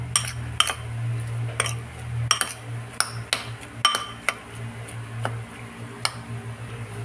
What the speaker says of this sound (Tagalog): Mix, mix, mix.